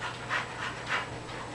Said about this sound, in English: My dogs just got home from taking a walk, and apparently they're really panty.